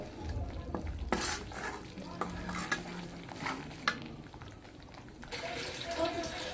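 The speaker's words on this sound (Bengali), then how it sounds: "এটাকেও আমি একটু তেলের উপরে ভেজে নেব" Spices frying in hot oil for a beef curry, a steady sizzle with scraping stirs and occasional utensil clinks against the pot, close and moderately loud, with brief voice-like sounds underneath.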